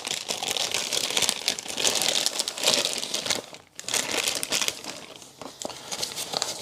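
Tape peeled and crinkled off an Electro-Harmonix/JHS Lizard Queen effects pedal box, a loud, close crackling rustle lasting several seconds with a brief pause midway.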